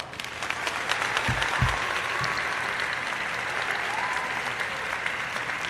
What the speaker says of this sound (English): Round of applause in the chat, please